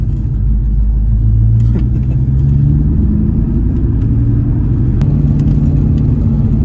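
A 2003 Ford Mustang Cobra's engine runs steadily while driving, a loud, close low rumble with slight rises in pitch as it pulls, no talking.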